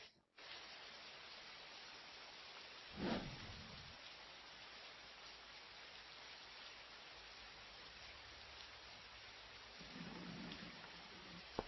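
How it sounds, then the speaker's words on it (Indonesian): Heavy rain pours in a steady, dense hiss that stays even throughout, with a brief louder splash or rumble near the start and no talking. "Hujannya deras sekali."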